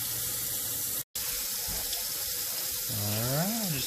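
Water runs steadily from a kitchen tap while a carrot is washed under it. The flow cuts out for a moment, then continues, with squeaky rising and falling rubbing tones near the end.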